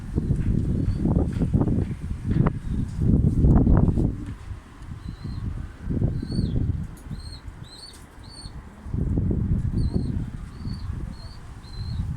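A pigeon flaps its wings overhead in bursts of loud, close whooshing beats, pausing between flurries, with faint chirping birds in the background.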